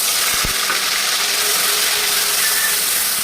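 Spices and fried onions sizzle in hot oil for a raw jackfruit curry, giving a steady, loud close-up hiss with a couple of faint clicks of stirring.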